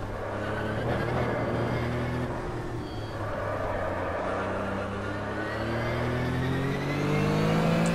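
Porsche RSR race car at Spa-Francorchamps in the Automobilista sim, engine note dropping under braking then climbing again as it accelerates, steady and close throughout.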